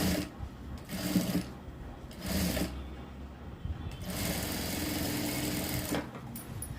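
A sewing machine runs in short bursts stitching a blouse neckline, its motor whirring near and loud, then settling into a longer continuous run.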